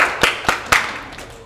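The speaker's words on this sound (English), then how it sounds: "Should we clap?" A few people clap hands during a casual cooking session: three sharp, close claps spaced evenly, followed by a couple of fainter ones, with no talking.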